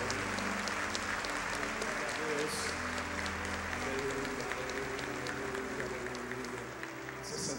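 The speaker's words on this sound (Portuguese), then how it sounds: "As palmas louvam ao Senhor." A church congregation claps steadily in praise at a worship conference, dense sustained applause filling the room with a murmur of voices and music underneath.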